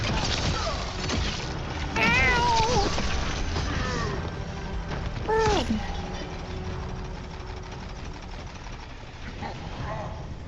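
A cat in the video game Dragon Age: The Veilguard gives two drawn-out meows, a few seconds apart, over steady game background sound and a murmuring voice.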